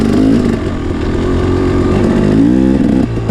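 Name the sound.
motorcycle with Rekluse Radius X clutch accelerating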